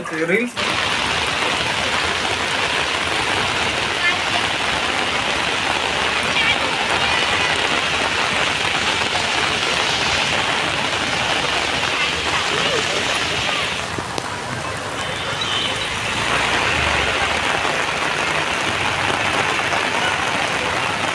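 Heavy monsoon rain and floodwater pour steadily into a house, a dense continuous rushing wash lasting throughout, with people talking over it at times.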